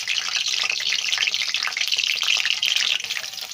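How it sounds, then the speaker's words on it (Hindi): Soybeans frying in hot oil for a buttermilk soybean and black gram dal give a steady, loud, dense sizzle that runs unbroken throughout, close up with no talking. "तेल हमारा गर्म हो गया हो, और इसमें हम डाल देंगे जो हमने सोयाबीन किया था, उसको फ्राई कर लेंगे"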